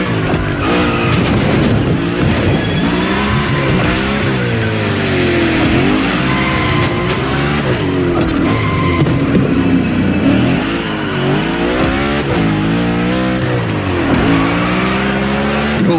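The Hoonicorn in The Crew Motorfest slides and revs hard through gymkhana-style drifting, a loud, continuous engine roar rising and falling with squealing tires throughout.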